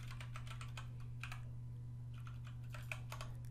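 Quick, close keystrokes on a computer keyboard while code is entered, coming in short uneven bursts over a steady low electrical hum.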